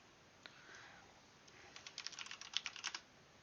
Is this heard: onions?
no